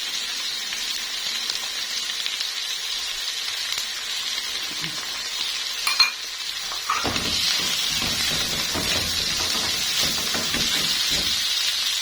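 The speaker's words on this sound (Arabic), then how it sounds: "يا دوب البصلة هتاخد تشويحة" Onion and garlic sautéing in a pan for a potato tray dish, a steady close sizzle and hiss that swells midway as garlic goes in, with faint stirring clatter and no talk.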